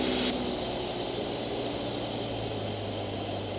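A training airplane's engine droning steadily in the cabin after being throttled back to 1500 rpm, a continuous broadband roar with a low hum and no pauses.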